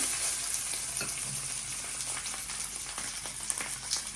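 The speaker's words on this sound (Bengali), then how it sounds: "এখানে আবার এক পিস মাছ ভেজে নিতে আছে" A piece of fish frying in hot oil, giving a dense, continuous crackling sizzle with small spattering pops throughout, close and fairly loud.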